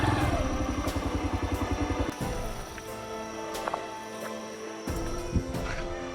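A motorcycle engine chugs with rapid, rhythmic pulses on a road broken up by heavy rainfall in Nakyal, Kotli, Azad Kashmir, fairly close and loud, then it fades and picks up again, with scattered clatter and knocks around it.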